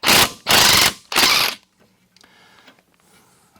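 Three loud, quick ratchet bursts from a wrench working the 16 mm strut pinch bolt on a Smart Fortwo Passion front strut, then faint metallic clinks and quiet handling afterward.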